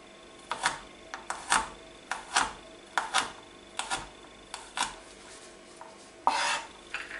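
A knife slices through garlic cloves on a cutting board, producing a close, quiet series of sharp, irregularly spaced taps and chops.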